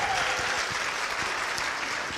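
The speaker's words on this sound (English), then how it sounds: "And Yvonne, give her a round of applause." Sustained crowd clapping fills a short stretch at a live motivational talk, a thick continuous patter of many hands at steady volume.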